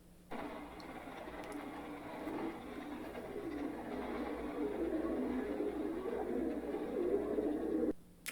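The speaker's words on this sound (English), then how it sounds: "And the villainous birds return." Pigeons cooing steadily over a soft, continuous background murmur in the 1977 film High Anxiety, moderately loud and unbroken for several seconds.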